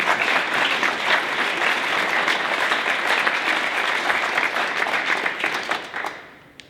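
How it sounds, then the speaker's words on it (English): Loud, steady applause from an audience at a spring impact event, many hands clapping in a dense continuous wash that tapers off and fades out near the end. "Go ahead and clap."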